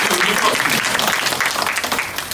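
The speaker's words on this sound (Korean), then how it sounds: "아내 우리 아내를 위해서 한 박수 한번 해줄 필요가 있어요" A church congregation applauds the pastor's wife during a worship service: dense, steady clapping from many hands fills the room throughout, with no pauses.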